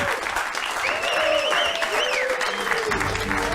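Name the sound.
audience applause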